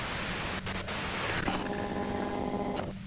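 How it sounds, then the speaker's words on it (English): Hissing white-noise static in the video game Disco Elysium, a steady broadband wash that shifts in texture partway through, with no talking. "you can do it through the white noise."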